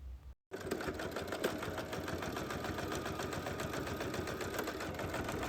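A sewing machine stitches handbag fabric in a fast, steady mechanical chatter after a brief pause at the start, running continuously and close.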